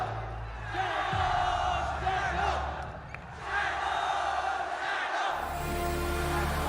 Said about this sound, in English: Can we have shadow chants in the crowd? Shadow, shadow, shadow, shadow.